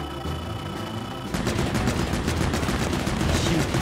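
Gunfire from a weapon in the video game Pikmin 4 sounds as a dense, continuous burst of rapid shots that grows louder partway through and keeps going to the end.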